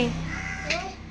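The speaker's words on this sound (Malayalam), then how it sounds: "കാക്ക കരയുന്നു" A crow caws a few times close by at home in the morning, harsh and loud, over faint household background.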